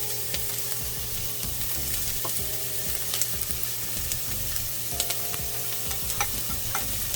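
Garlic stirred into pinto beans with turkey in a hot pot, a steady close sizzle with scraping spoon strokes and small clinks throughout, no voices.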